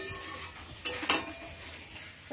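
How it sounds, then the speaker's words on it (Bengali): Food is sautéed in a pan with a spatula, two sharp metallic scrapes standing out over a soft background sizzle, then another clatter at the end. "এরকম আমি কষাচ্ছি"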